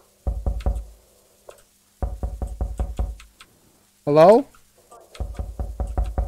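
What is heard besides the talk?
knocking on a front door in a video game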